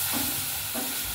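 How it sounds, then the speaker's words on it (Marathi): Sizzling tempering for Maharashtrian dal amti, fried and stirred in a pan as part of a traditional puran poli meal, a steady close crackle with soft scraping stirs and no talk. "छान अशी चरचरीत फोडणी आपल्या आमटीला द्यायची आपल्याला."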